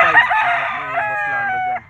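A gamefowl stag, a young rooster, lets out a single loud, close crow with a rising start and a long drawn-out tail.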